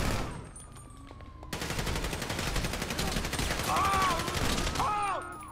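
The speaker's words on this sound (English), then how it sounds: "how are you even shooting at me?" GTA V gunfire: after a quieter start, a dense, loud burst of rapid automatic shots begins and continues in a fast steady rhythm, with whistling game sounds layered on top near the end.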